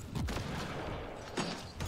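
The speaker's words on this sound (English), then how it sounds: "if you combine with huge powerful weapons like the shotgun that I'm using, you will kill them in 2 shots" Shotgun blasts in the video game Mass Effect Andromeda: two loud, close booms about a second apart, each with a short mechanical rattle, over a low game background.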